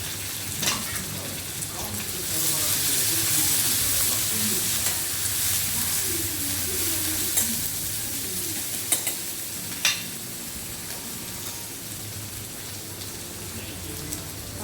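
Garlic, curry leaves and coriander hit hot tempering oil and sizzle loudly and steadily, with a few stirring clinks and a voice talking faintly underneath.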